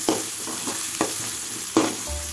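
Curry leaves dropped into hot oil for Tamil pepper rice sputter and crackle in a run of sharp bursts, with a low sizzle running between them and no talk.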